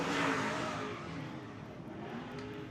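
A race car on a time-trial hot lap at War of the Wings, Cromwell, round 7: car number 16, Maxim chassis. Its engine drones steadily and close by, loudest at the start and then settling into a sustained roar.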